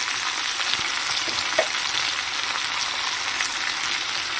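Yardlong beans with grated coconut stir-frying in a pan, a continuous dense sizzle with faint stirring scrapes and occasional small pops, no voices.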